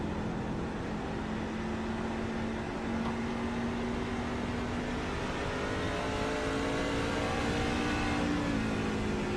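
Onboard a race truck in the Hoosier 150 at Lucas Oil IRP, the engine holds a loud, steady droning note with a slowly rising pitch over constant wind and road roar.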